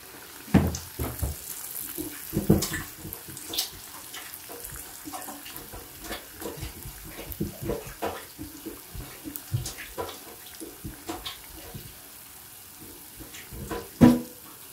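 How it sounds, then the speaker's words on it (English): Water runs from a kitchen tap while hands are washed between batches of puff puff dough, giving splashy, uneven bursts with clattering knocks, close by. "The annoying part about making these is the fact that you have to keep washing your hands."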